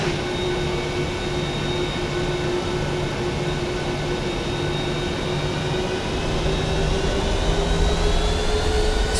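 Ryanair jet engines spool toward takeoff thrust in a flight simulator at night, a steady loud roar with sustained whining tones that rise slightly toward the end, no voices.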